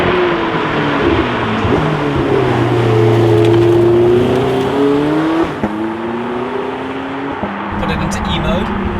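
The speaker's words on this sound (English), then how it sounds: "just seamlessly burst into life with that engine" A Porsche 918 Spyder hybrid engine bursts into life and runs loud and close, its pitch rising and falling through revs and gear changes while someone talks over it.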